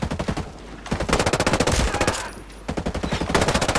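Automatic weapons fire in the shooter Ghost Recon Breakpoint: loud, close bursts of rapid shots, broken by two brief pauses, with no talk over them.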